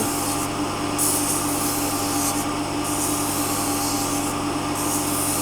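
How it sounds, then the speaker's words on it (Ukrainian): Continuous sanding of a patch on emery paper, a steady close scratchy rubbing with faint rhythmic swells as the stroke changes. "вже шліфую середину, так само на наждаку"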